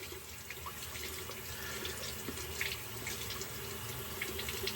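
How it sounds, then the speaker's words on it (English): Hot water runs steadily from a bathroom tap into a sink, a continuous close splashing hiss with small bubbly variations and no talking. "let's get some hot water. Waiting for the water to get hot."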